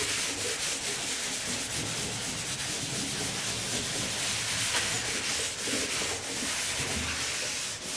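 Steady, continuous abrasive rubbing of sandpaper against a metal surface, close and fairly loud, with no pauses or voices throughout.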